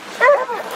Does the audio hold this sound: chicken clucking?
no